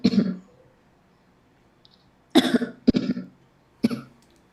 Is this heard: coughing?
yes